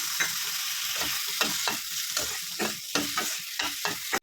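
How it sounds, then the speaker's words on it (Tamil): Ginger, garlic and tomato sautéing in a pan for a chicken dish, a bright constant sizzle broken by rhythmic scrapes and stirs of a spoon, close and unaccompanied by voices. "இஞ்சி பூண்டு போட்டுக்கலாம், நல்லா கிளறி விட்டுக்கலாம், நல்லா வதங்கணும்."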